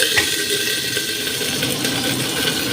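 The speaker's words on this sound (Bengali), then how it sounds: "গ্যাসটা কমিয়ে কারি পাতা ফোড়ন দিলাম।" Curry leaves sizzle in hot oil in a covered pan on low gas, giving a loud, steady, close hiss with faint crackles throughout and no talk.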